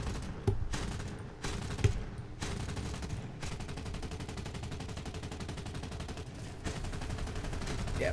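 Cannon and machine-gun fire in the War Thunder video game: sharp bursts in the first two seconds, then sustained rapid gunfire at steady loudness.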